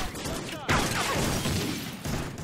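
Gunfire in the shooter game Call of Duty Ghosts: a sharp blast followed by rapid crackling shots and debris over a busy battle din, loud and close.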